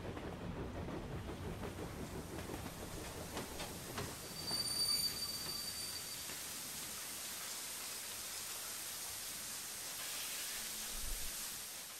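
A train rumbles steadily toward a station, with a broad rolling roar of wheels on rails and a brief high metallic squeal of wheels partway through, fairly close and without voices.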